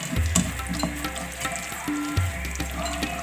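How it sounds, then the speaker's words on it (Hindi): Cumin seeds and ajwain frying in hot oil over high heat, in the same pan used for okra, giving a steady close sizzle with a few soft clicks and pops throughout. "इसको हम फ्राई करेंगे इतना कि ये खुशबू छोड़ दे"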